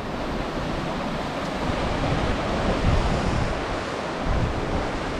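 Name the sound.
ocean waves washing into a rock pool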